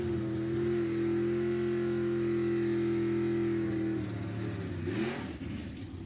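Drag racing car at Sacramento Raceway holding a loud, sustained engine tone that then shifts and fades as the car pulls away, heard alone without talk.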